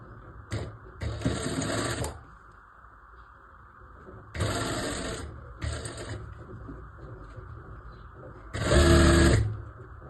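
A sewing machine stitches a baby frock in several short close bursts of rapid whirring, separated by quiet pauses, with no talking heard.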